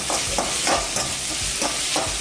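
A bay leaf goes into a pan of onions frying for vada curry, with a dense, continuous sizzle and crackle, close and steady, broken by soft rhythmic stirring scrapes.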